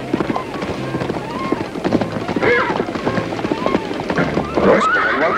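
Horses neighing and whinnying amid clip-clopping hooves, with a chaotic comic chase scene and voices shouting over the commotion; several rising whinnies cut through near and loud.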